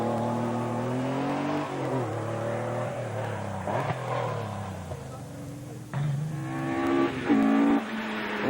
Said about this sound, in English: Wonderful noise of twin cam escort.